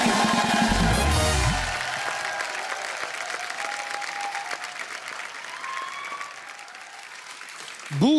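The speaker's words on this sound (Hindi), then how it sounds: "जोरदार तालियां" Loud audience applause on a comedy show, a thick burst of clapping with a musical sting at the start, then steady clapping that eases slightly before swelling again at the end.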